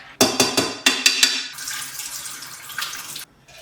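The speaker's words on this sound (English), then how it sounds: "I'm draining the urad dal water now to grind into a thick paste to make vadas" Soaking water drains off urad dal in a kitchen, pouring in several loud bursts at first and then settling into a steady running splash that stops abruptly near the end.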